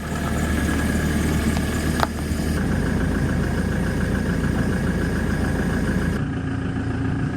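A boat's outboard engine idles steadily after winter, a continuous mid-pitched motor drone close by with a brief knock partway through, and no voices.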